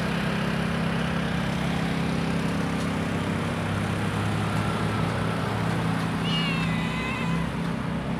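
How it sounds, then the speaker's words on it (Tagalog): Cat meowing outdoors near a station, a few rising meows late on over a steady low hum and broadband background noise, with no talk. "May pusa pa dito."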